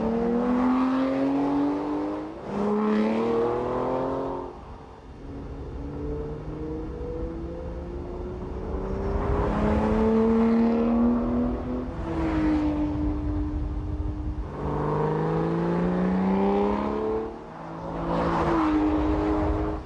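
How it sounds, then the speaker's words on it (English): A powerful Aston Martin Lagonda V12 car engine runs and revs in long sweeping climbs, its pitch rising through gears then dropping, with a barking exhaust, loud and close throughout. "the V12 engine fires with a delicious bark from the exhaust."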